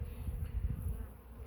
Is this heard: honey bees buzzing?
yes